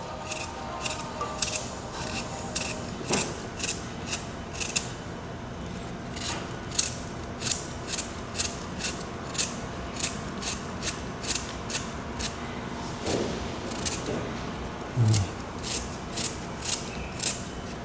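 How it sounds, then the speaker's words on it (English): A knife slices a carrot into thin pieces on a cutting board for yard-style barbecue chicken, giving a long run of quick, evenly spaced crisp chops, close and clear, about two per second. "We're gonna split our carrot down the middle. And then we're gonna cut some nice thin pieces."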